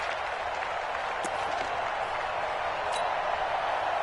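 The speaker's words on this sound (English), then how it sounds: "the crowd getting into it as we come up on a big 3rd down" A stadium crowd in a Madden football video game cheers and roars as a steady, dense wash of noise that holds at an even level throughout, with no voices standing out.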